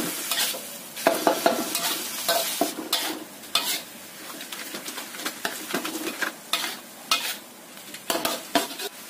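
Spoon stirring seasoning powder and pepper into a frying mixture in a pan, repeated scraping strokes over a soft sizzle, close and fairly quiet, no talk.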